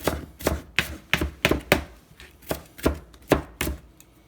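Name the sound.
chopping onion finely with a knife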